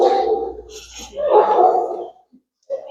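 Dogs of different sizes vocalize close by, a couple of barks and whimpering yips in short bursts with brief gaps between them.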